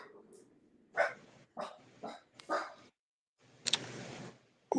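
A Jack Russell Terrier mix dog lets out a quick string of four or five sharp barks at close range, followed by a longer rough, noisy burst and another sudden sound at the very end.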